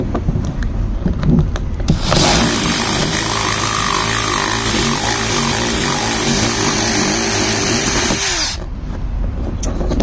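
A power drill whirs steadily at close range for several seconds, grinding against a plastic N64 cartridge tray edge to smooth it, with softer handling noises before and after.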